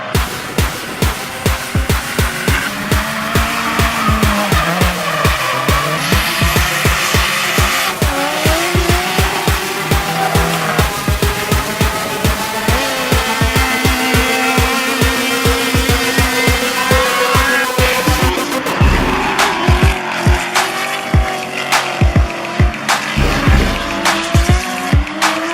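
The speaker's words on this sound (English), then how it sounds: "Biggest drift event in Eastern Canada." Drift cars at the Maple Leaf Bash in Eastern Canada roar and scream through long tire squeals, engines rising and falling with rapid bouncing-limiter pulses, loud and close, continuing without pause.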